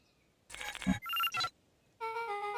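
A few short electronic beeps in quick succession, bright and tonal like game keypad presses, with a brief pause before a final longer tone.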